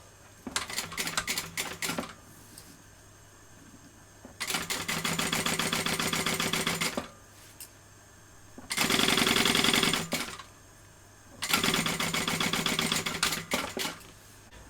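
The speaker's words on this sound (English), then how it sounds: "I'm going to stitch that, baste that on using a 1/4 inch seam allowance" Sewing machine basting a bag lining and zipper together at a quarter-inch seam, running in four rapid mechanical bursts of a few seconds each with short pauses between, close and clear.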